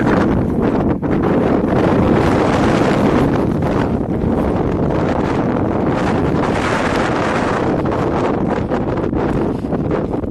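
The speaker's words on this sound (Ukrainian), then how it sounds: "Там вітер. Буде гудіти, шуміти, але подивимось." Heavy wind buffeting the microphone in an open farm field, a constant loud roaring rumble with gusty fluctuations throughout, no voices.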